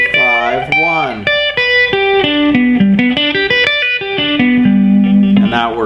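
Distorted electric guitar with reverb picks out chord tones as a melodic line over a song, single notes stepping up and down in a steady sequence, loud and close.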